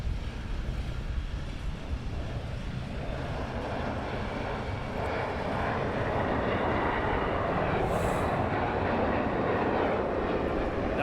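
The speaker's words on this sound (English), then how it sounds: "it looks like a government aircraft just come in" Government aircraft arriving to land at London Luton Airport, a steady broad roar of jet engine noise sustained throughout, fairly loud and continuous with no speech.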